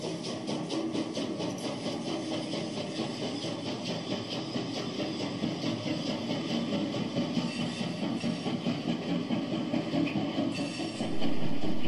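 A heavy steam-locomotive freight train in Germany's Ruhr region rolls along with a steady rumbling drone and rhythmic clickety-clack of wheels, moderately loud throughout.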